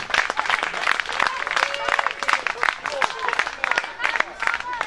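Group applause for young volunteers at a youth trophy event, clapping dense and continuous over five seconds with cheering and crowd chatter mixed in, fairly close and steady.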